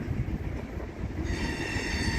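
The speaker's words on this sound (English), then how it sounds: "We got the trains running." A train runs across a city bridge at sunset, a steady rumbling wash of rail noise with faint metallic wheel hiss rising partway through, continuous and fairly distant.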